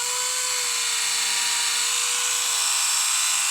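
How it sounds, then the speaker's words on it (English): Small hand drill pre-drills a dwarf miniature figure with a bit the thickness of a cocktail stick, a continuous high whirring whine held steady and close for several seconds, with no talking. "I think I'm going to pre-drill this with my little handy drill."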